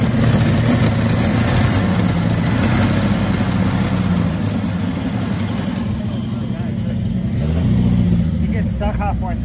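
Engine of a 1962 Bedford TJ truck running loud and close, its revs rising and falling under people talking nearby.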